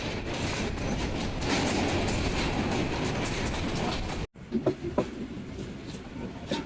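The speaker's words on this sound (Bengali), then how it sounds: "সন্ধ্যা সাতটা পাঁচ মিনিটে ট্রেন প্রবেশ করছে কমলাপুর রেলওয়ে স্টেশনে" The Mohanagar Express, a metre-gauge train, rumbles loudly into Kamalapur railway station in Dhaka with rolling clatter for several seconds, then the sound cuts to quieter station ambience with scattered knocks.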